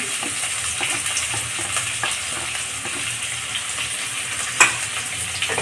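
Chopped onions sizzle and fry in a pan while being stirred, a steady close crackling hiss with soft scraping movements and one brief louder clink near the end.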